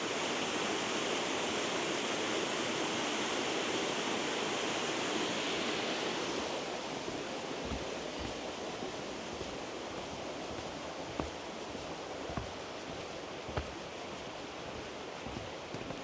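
A waterfall in Glenariff Forest Park rushes as a steady broadband roar, moderately distant, with a few faint knocks and footsteps in the later part.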